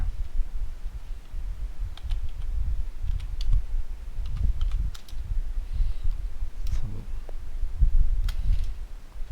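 Typing on a computer keyboard, sparse quiet clicks scattered over a low background rumble, no voices.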